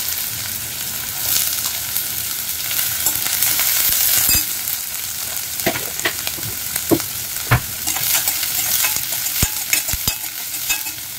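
Chopped onion frying in a pan for a sponge gourd dish, with a steady hiss and a few sharp scrapes and knocks from stirring as it cooks.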